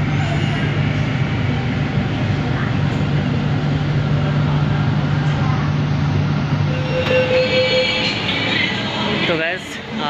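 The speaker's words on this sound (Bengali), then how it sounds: "ফাইনালি কিন্তু নামলাম মেট্রো থেকে" Low rumble of a metro train at Salt Lake Stadium station in Kolkata, with a steady hum, a brief high whine and a closing bump near the end, and people talking nearby.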